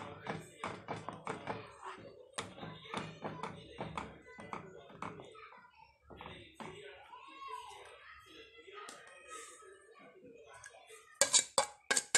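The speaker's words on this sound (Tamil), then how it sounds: "இப்போ இது எல்லாத்தையும் நம்ம நல்லா கலக்கி விட்டுக்கணும்." A spoon stirs a milk-based homemade biscuit ice cream mixture in a bowl, making light, scattered taps and clinks under ongoing talk.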